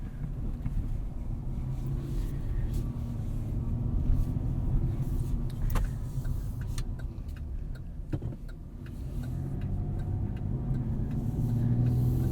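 A 2021 Chevrolet Colorado ZR2 pickup driving on the street in two-wheel drive, heard from inside as a steady low road and engine rumble with wind noise, continuous and fairly loud throughout.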